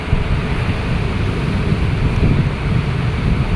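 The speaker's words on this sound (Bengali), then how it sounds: "অনেক বড় বড় ঢেউ আসছে" Big ocean waves and wind at the sea off a bridge in the Maldives make a steady, loud broadband roar, with gusts buffeting the microphone throughout.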